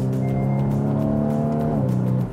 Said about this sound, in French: on est dans une Boxster avec le moteur, le fameux moteur 3 litres 4, donc la plus puissante des Boxster.